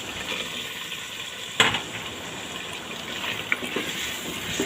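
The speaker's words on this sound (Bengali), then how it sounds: "দিয়ে আমি ভালো করে নাড়াচাড়া করে মশলার সাথে আমি কলিজা আর আলুটা মিশিয়ে নিচ্ছি" Beef liver and potato pieces being stirred into spices in a hot pan, a soft continuous sizzle with a sharp scrape of the spoon partway through and a few lighter clinks after.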